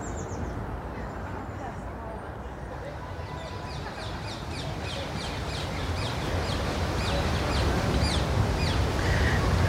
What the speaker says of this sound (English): So the ring-necked parakeets are a noisy bird anyway.